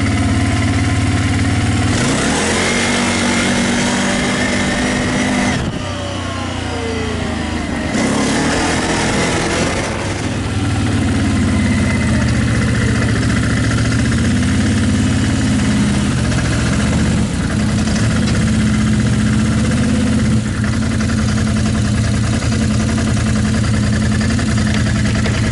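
An ATV engine out in the snow, heard up close as a loud, steady idle broken by several rising revs and throttle swells, rumbling continuously throughout with no talking.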